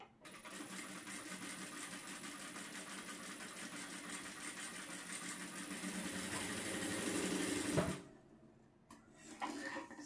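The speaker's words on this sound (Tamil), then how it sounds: "திருப்பி அதே மேலே ஒரு ரெண்டாவது ஸ்டிச் போடலாம்" A sewing machine stitches a blouse seam, a steady close mechanical whir running continuously for about eight seconds before stopping, followed by a few light knocks.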